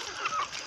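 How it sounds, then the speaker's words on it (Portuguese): A young naked neck chicken being kept as a future rooster gives short honking clucks in a farmyard at morning feeding, close and fairly loud, several calls packed into under a second with no speech. "Esse daqui é o frango de pescoço pelado que eu vou deixar pra galo."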